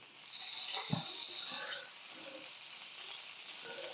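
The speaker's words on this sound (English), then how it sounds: "I am going to turn my bacon because it's starting to look good" Bacon sizzles softly on a Pampered Chef Deluxe Grill and Griddle, with a brief clack of tongs as a strip is turned, followed by a steady low crackle.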